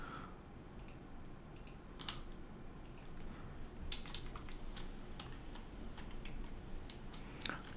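Faint, scattered clicks of keys being typed on a computer keyboard, irregular taps spread across several seconds over a low background hiss, with no talking.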